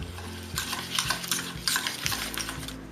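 Room temperature butter beaten with a hand whisk in a mixing bowl, a quick rhythmic series of close scraping, tapping strokes lasting a few seconds over faint background music.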